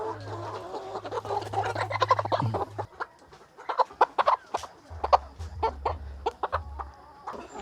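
Backyard poultry chickens cluck in a quick series of sharp, close calls, with a low mechanical hum running under parts of the sequence.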